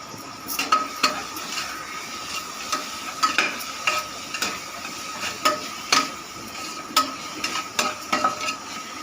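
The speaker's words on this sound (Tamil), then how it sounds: "நல்லா வதங்கிடுச்சு வெங்காயம்" Onions and tomatoes are stirred and sautéed in a pan, with repeated sharp metallic scrapes and taps of a spoon against the pan over a low, steady sizzle.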